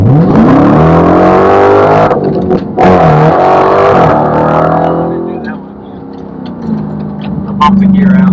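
A Dodge Challenger Demon accelerates hard and loud, its engine note climbing and dropping through gear changes, with a bumped shift and a brief lull before the revs rise again.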